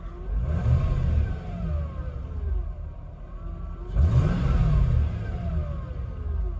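A V8 car engine with noisy lifters revs twice, rising and falling in pitch with a steady idle rumble between the revs, fairly close by.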